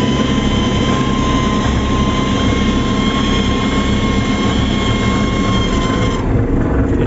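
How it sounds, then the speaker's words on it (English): A Volvo BL71 with a faulty gearbox and rear differential whines while driving, a steady loud tonal buzz layered over engine and road rumble that carries on throughout. "O da, čuje se zujenje."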